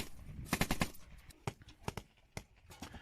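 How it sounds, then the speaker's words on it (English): Soldiers fire from a trench in combat, with a fast cluster of sharp shots followed by scattered single reports at mid distance, fairly faint against background noise. "So here they are, they're shooting in the trench."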